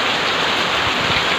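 Heavy rain pours down at a dairy farm, a loud, dense, continuous hiss of drops with no pauses.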